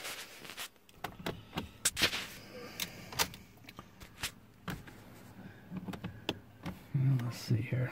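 A car's power window motor whirs as the glass lowers inside a parked vehicle, with short clicks and handling noises around it and a few brief bursts of nearby speech.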